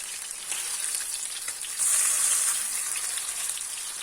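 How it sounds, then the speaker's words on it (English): Thai salmon fishcakes frying in a pan, a continuous bright crackling sizzle that holds steady and swells louder midway, with no voices. "I can see they're turning golden brown on one side, so flip them over and let it continue cooking"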